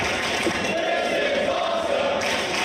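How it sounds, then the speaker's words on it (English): Crowd at a WSW Australian Championship wrestling event in a pavilion, a loud, continuous roar of cheering and shouting voices filling the arena without a break. "I think the crowd's saying it all."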